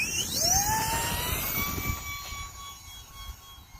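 A small E-flite UMX A-10 Thunderbolt II RC jet plane takes off into the wind, its electric ducted-fan whine rising in a sweeping pitch, then holding a steady high tone as it pulls away and fades slightly.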